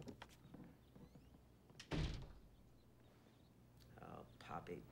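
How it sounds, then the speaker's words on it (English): A door shuts with a single firm thunk midway through, set among quiet room sounds and soft speech. "Shut the door on your way out, sister."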